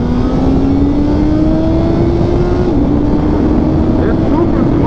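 A Suzuki Hayabusa motorcycle engine pulls hard in second gear, a loud steady drone whose pitch climbs smoothly, heard from the rider's position under heavy wind rush.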